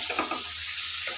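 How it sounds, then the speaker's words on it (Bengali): Fried potatoes being sautéed in a pan for aloo dum, a short burst of soft sizzling and stirring with a few light scrapes over a steady background hiss, no talking. "এখানে আমি ভেজে রাখা আলুগুলো দিয়ে দেবো, দিয়ে এখানে 5 মিনিট কষিয়ে নেব।"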